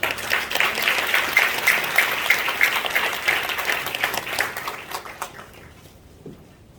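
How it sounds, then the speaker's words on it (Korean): Congregation at a Korean church's 50th-anniversary thanksgiving and ordination service gives a big round of applause for the pastor coming forward, dense clapping that swells and then thins out and fades to quiet. "나오실 때 큰 박수 한번 부탁드립니다."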